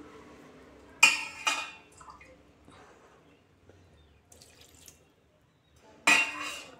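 Water is poured into a pan of salted tomatoes cooking on the stove. Two short splashing bursts come a few seconds apart, close and fairly quiet, with faint utensil clinks in between.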